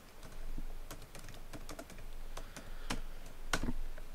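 Fingers tap on a computer keyboard in a quiet room, a close, irregular burst of soft clicks with a couple of sharper keystrokes toward the end.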